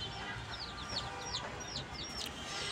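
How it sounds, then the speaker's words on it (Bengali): Desi chicken chicks give repeated high, thin peeping chirps over a low steady background, several calls in quick succession at moderate distance. "এই জায়গায় 5টা মুরগির বাচ্চা আনি, দেশি মুরগির বাচ্চা"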